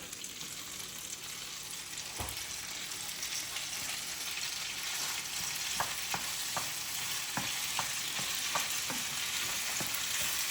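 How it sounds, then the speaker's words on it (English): Pasta tossed in a hot pan with guanciale fat and black pepper, a steady loud sizzle throughout, with a series of sharp tossing and scraping clicks in the later half, no talking. "pasta goes into guanciale and pepper."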